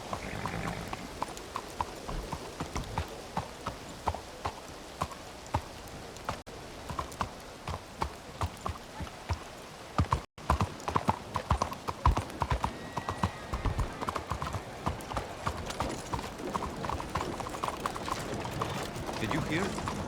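Horse hooves in a video game, a long steady run of close, rhythmic clip-clops with brief pauses, under intermittent talk from a man.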